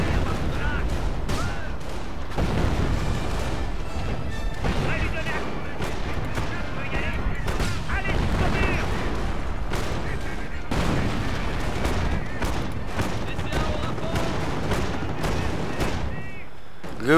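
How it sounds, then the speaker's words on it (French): Rapid, repeated booms of a Bofors anti-aircraft cannon firing continuously in a Company of Heroes: Opposing Fronts battle, dense and loud, with voices talking over the shooting. "Le Beaufort, le canon antiaérien par excellence."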